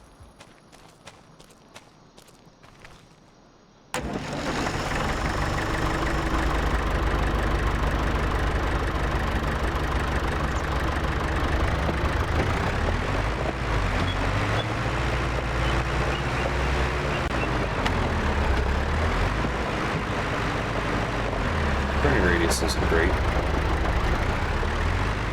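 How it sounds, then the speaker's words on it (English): In a farming video game, a tractor engine starts after a quiet moment and runs steadily with a loud, low droning hum, with someone talking over it. "This is our first real tractor, so I'm gonna run this at a full 25 kilometers an hour"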